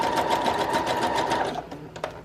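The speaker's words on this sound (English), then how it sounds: "I think maybe I will just go ahead and sew across and then I can still have 2 separate pockets." A sewing machine runs close up, stitching across a pocket on a handmade autumn junk journal, with a rapid steady whir that slows and stops near the end.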